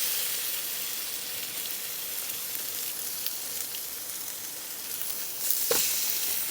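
Burgers frying in a pan at a rainy campsite beside an air tent and car: a steady, bright sizzle that persists throughout, with a few faint clicks and a brief knock near the end.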